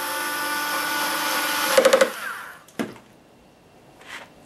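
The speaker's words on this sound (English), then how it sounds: "Got a ratcheting action, this little power driver." A small ratcheting power driver fitting tuners onto an Ovation Celebrity Elite guitar headstock, whirring steadily, then a quick burst of ratcheting clicks as it stops, followed by a couple of soft handling knocks.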